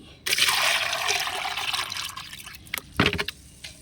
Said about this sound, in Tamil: இந்த பக்கெட்டில் அதே மாதிரி ஒரு மக்கு தண்ணி